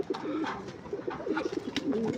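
Domestic pigeons coo in a home loft at close range, several overlapping low rolling calls repeating steadily, with a few faint background clicks.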